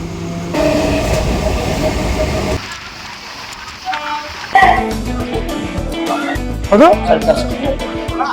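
A Bongaon local train runs toward Sealdah at dawn, with loud rumbling and rattling of the carriages, a brief quieter stretch, then clanks and squeals; voices talk over it.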